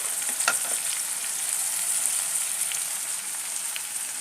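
Tomato and capsicum cooking in a pan beside meat, a steady bright sizzle held close and fairly loud, with a few faint stirring clicks early on and no voices.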